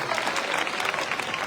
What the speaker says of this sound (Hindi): बिंटू जी के लिए ताली बजाओ।